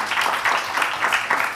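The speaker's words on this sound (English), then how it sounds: "I think a round of applause for everybody here." Audience clapping for a conference panel on climate resolutions at COP26, a steady dense patter of many hands sustained throughout, moderately loud and close, with no talk over it.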